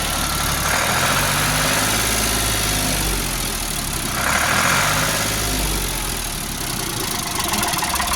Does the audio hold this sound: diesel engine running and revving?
yes